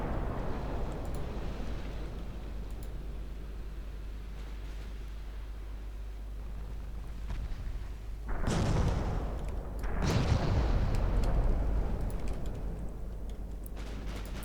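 Battleship secondary guns firing in the Ultimate Admiral Dreadnoughts naval warfare video game, two heavy booming blasts a little over a second apart with a rumbling tail after each, set against a steady low hum and no talk.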